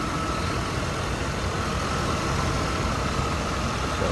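A 1992 Chevrolet K1500 regular cab 4x4 pickup engine idles smoothly and steadily, a constant close-up rumble with an even hum and no voices.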